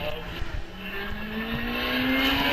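A hillclimb race car at Loton Park runs rough and misfires as it rounds the Museum bend toward the finish, its engine note droning and gradually rising with uneven sputters, moderately distant.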